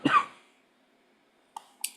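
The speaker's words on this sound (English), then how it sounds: "Sorry if I have to cough." One close cough, sharp and throaty, followed by silence and then two small clicks or breaths.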